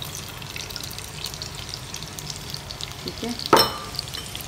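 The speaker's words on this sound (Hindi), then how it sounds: "अब मैं इसमें डाल दूंगी प्याज" Onions sizzle and fry in hot oil in a pot, a low steady crackle throughout. A sharper clatter comes near the end, and a voice speaks briefly.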